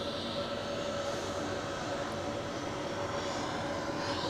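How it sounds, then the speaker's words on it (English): An Air France airliner departing Zurich Airport, heard as a steady, broad jet engine roar that holds at an even level throughout, distant but dominant, with no voices. "on the other side we have Air France departing home to Paris"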